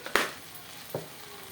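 Garam masala being stirred into food frying in a pan: two short, sharp scraping stirs a moment apart over a faint sizzle, with no one speaking.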